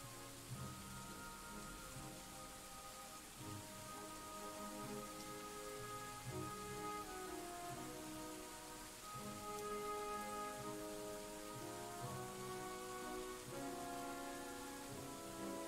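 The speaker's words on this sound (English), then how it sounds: "Got a lot of dwarves stand out here in the rain." Rain falls in the video game Dwarf Fortress, a steady soft patter that stays even throughout, accompanied by layered tonal game music.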